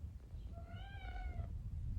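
A single cat gives one clear, drawn-out meow lasting about a second, fairly close and faint, over a low background rumble.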